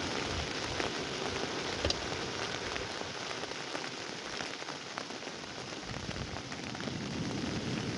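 Steady rain falls on a storm beach, a dense, even hiss of drops on surfaces that continues unbroken throughout, with no voices.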